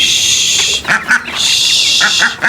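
Ducks quacking in short bursts over a steady high-pitched hiss of background noise, with a few clustered calls close by.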